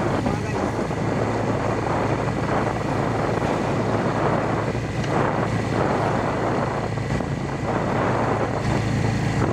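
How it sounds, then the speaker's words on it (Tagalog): Steady, loud wind roars and buffets the microphone throughout, a dense low rumble with gusty surges and no clear pauses, with intermittent rain. "Ngayon kahit malakas pa rin ang hangin"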